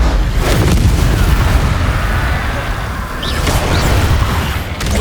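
The Confringo blast spell in the Hogwarts Legacy video game, going off as a loud, sustained booming explosion with a second blast near the end.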